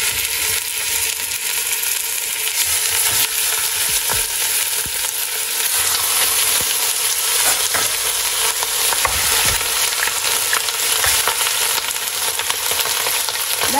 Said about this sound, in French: On fait vite pour bien saisir la viande